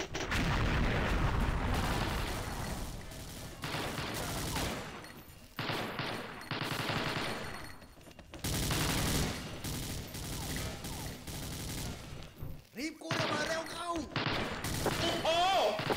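Rapid bursts of gunfire from the shooting video game XSHOT crackle in loud volleys separated by short pauses, with a voice talking intermittently over the shots.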